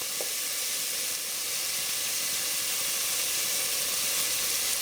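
Already-cooked sausage browning in a hot pan for spicy shrimp and grits, giving an even, continuous close sizzle and hiss with no talking.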